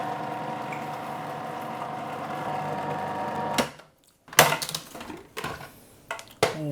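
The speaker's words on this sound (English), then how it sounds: "And now we're going to whisk the ice cream." A stand mixer whisks keto vegan ice cream base with a steady, close motor whir that runs for several seconds, then cuts off, followed by a few scattered knocks and clatters.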